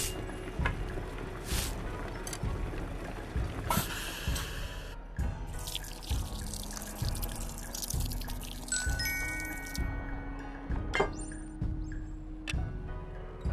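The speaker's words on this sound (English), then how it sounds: "Pour boiling water over the tea powder to fill the cup." Boiling water poured into a teacup over oolong tea powder in the VR cooking game Lost Recipes, a light trickling pour with drips and small clinks, its pitch rising as the cup fills, alongside soft ambient tones.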